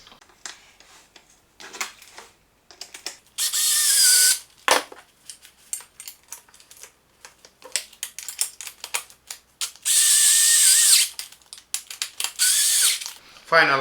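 Two screws being driven into a Livarno Home racing-style gaming chair during assembly, with two long, loud bursts of rapid mechanical clicking and whirring, separated by stretches of quieter handling clatter and brief talk.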